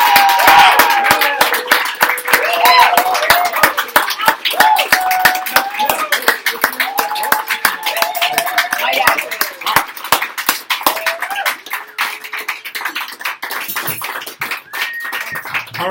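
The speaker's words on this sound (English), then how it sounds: "All right, just one more round of applause here." An audience at a poetry hour in a San Francisco cafe claps in scattered, sharp individual hand claps that continue for a long stretch, while a person talks over the clapping almost throughout.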